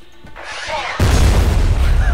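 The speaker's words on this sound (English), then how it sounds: "Giant explosion. Nothing left." A giant explosion in the shooter game F.E.A.R.: Extraction Point erupts as a sudden loud, deep boom that fills the rest of the moment with a dense roar, following a quieter stretch.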